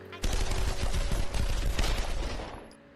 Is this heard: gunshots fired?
yes